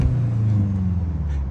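A 2024 Volkswagen Jetta GLI engine runs in sport mode, a close, loud, steady low rumble that rises slightly in pitch, with no talking.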